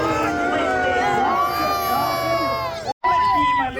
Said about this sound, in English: You're cheering!